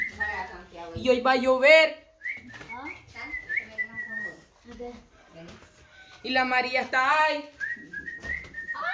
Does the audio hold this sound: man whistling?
yes